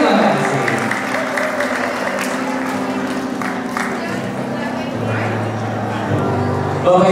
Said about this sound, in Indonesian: boleh saya dengan tepuk tangan yang paling meriah dari Anda